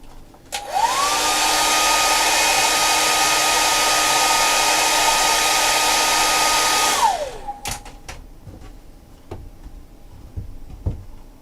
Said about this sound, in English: Hairdryer softens the glue.